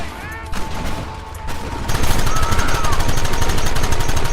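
Rapid gunfire from a Western shootout in the game Red Dead Redemption, a dense, continuous rattle of shots that bursts in and holds loud after a brief quieter lead-in, with voices shouting in the mix.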